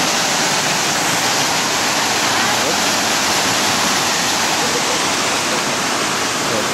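Constant rushing of water flowing through old pipes and a viaduct channel near New Athos, a dense, loud, unbroken hiss and roar close by with no pauses.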